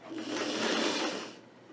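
A sewing machine runs a straight stitch through quilt fabric, a short, soft, close mechanical whir lasting just over a second before trailing off.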